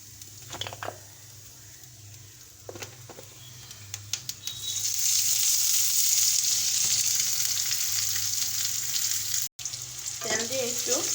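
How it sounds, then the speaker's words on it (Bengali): Bashkochu (giant taro) pieces frying in hot oil in a pan, a soft start with a few clinks before a loud steady sizzle that swells and continues, with a brief stir near the end. "চলুন এখানে তেল দিয়ে দেবো।"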